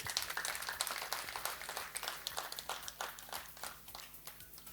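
Wedding guests clapping together at a ceremony, a steady patter of many hands that is faint and distant, with no voices over it.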